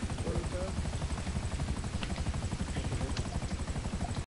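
Steady helicopter rotor chop from a video game with a trophy truck, running loud and continuous throughout, with voices talking over it.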